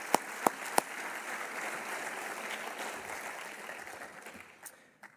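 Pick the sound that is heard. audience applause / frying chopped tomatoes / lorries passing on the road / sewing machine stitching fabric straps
audience applause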